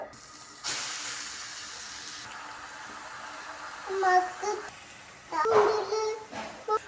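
A loud hissing sizzle bursts out as prawns hit a hot pan, settles into a quieter hiss, and young voices chatter afterward.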